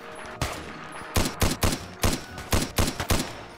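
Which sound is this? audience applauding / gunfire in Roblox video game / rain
gunfire in Roblox video game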